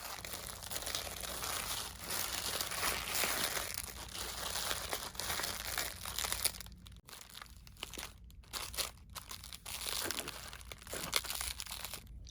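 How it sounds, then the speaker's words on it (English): A glass cup is wrapped in a square of large bubble wrap: steady plastic crinkling and rustling up close, then sparser, choppier crackles and handling noises as the wrap is folded around. "And then wrapped in one square of large bubble wrap."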